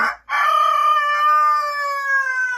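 A rooster crows once, close and loud: a single long, drawn-out cock-a-doodle-doo that follows a brief cluck, with no talking around it.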